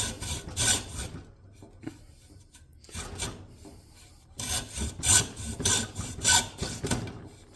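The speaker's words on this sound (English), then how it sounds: "any like high tooth count hacksaw blade works pretty well for this" A fine-toothed hacksaw cuts through a carbon fiber mountain bike handlebar from a Roval Control cockpit, making close, raspy back-and-forth strokes in bursts with short pauses between them, and nobody talks.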